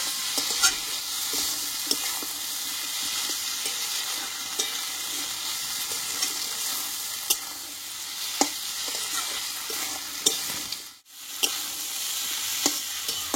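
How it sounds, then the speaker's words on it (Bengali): Potatoes are stir-fried in fish oil in a pan, giving a constant close sizzle broken by regular light scrapes and clicks of a stirring spoon, with no talking. "আরো আমি 2 মিনিট মতো এইভাবে আলুটাকে কষিয়ে নেব।"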